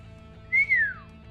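A person whistles a single rising-then-falling note, clear and close, lasting under a second over a faint steady background hum.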